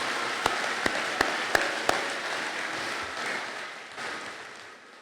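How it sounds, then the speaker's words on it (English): A crowd at a technical school commencement ceremony applauds the school's support staff, sustained clapping from a large audience with a few louder hits early, slowly fading. "So if we could just please give them a round of applause for everything they do for our building."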